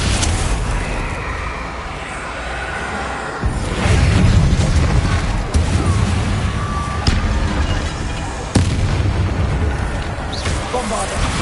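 Explosive spells in Hogwarts Legacy detonate in a series of loud booming blasts, several sharp bursts punctuating a dense rumble of combat noise.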